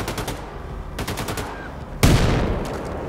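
Gunfire in the video game Wolfenstein II: The New Colossus comes as bursts of rapid automatic shots over a busy background, ending in a louder, heavy blast that trails off.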